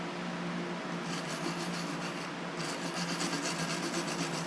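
A hand tool scrapes and rasps slag off a fresh E6013 stick weld run at about 82 amps on a steel box blade cart, a steady close scratching that grows louder partway through.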